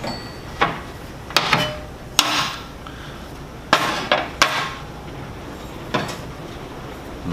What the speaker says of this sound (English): Pop these clamps.